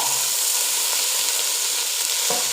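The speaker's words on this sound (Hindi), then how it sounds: "प्याज भी थोड़ा सा फ्राई करेंगे। और साथ ही हम शामिल करेंगे गोश्त" Onion and mutton frying in a pan for a yakhni mutton soup, giving a steady, loud, close hiss of sizzling that runs the whole time with a brief scrape near the end.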